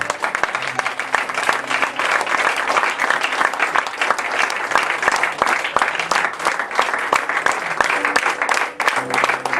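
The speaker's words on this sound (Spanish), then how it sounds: "Aplaude la gloria del Señor." A church congregation applauds during a sermon on financial principles, a dense, continuous wash of clapping from many hands that stays loud and steady throughout.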